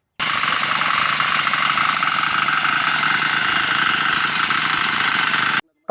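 A farm machine's engine runs loud and close with a steady, rough, rattling drone that holds constant for several seconds, then cuts off abruptly near the end, with no talking.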